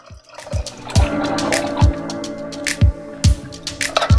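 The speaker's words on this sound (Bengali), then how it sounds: "সিদ্ধ করার জন্য পরিমাণ মতো জল দিয়ে দেব।" Water poured into a cooking pot of peas and potatoes seasoned with salt and turmeric for ghugni, heard as a run of close splashy plops and drips repeating every half second or so.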